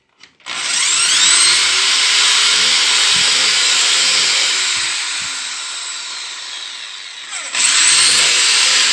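A power drill bores into bamboo with a drill bit, a loud, close, sustained whine that runs for several seconds, eases slightly, stops briefly, then starts again.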